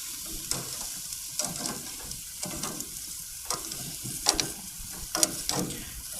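Squash sizzles steadily on a hot grill, with bursts of crackling and clattering as tongs toss the pieces every second or so, close and fairly loud.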